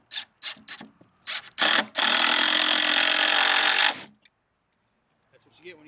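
A power driver running a screw into wood, with short taps and then a sustained two-second whirring grind, followed by quiet handling noises.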